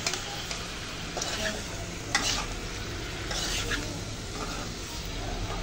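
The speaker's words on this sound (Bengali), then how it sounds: "এইভাবে নেড়ে দিয়েছি যেন মশলাগুলো ভালো করে যেন এড হয়ে যায়।" Spices being stirred as they fry in a pan while cooking fish, a steady soft sizzle with intermittent scraping of the spoon through the whole stretch, close and moderately quiet.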